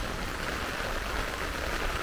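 Rain falls steadily on an outdoor airport strip walkway in Montego Bay, making a soft, even hiss that stays constant and fairly faint throughout, with no voices.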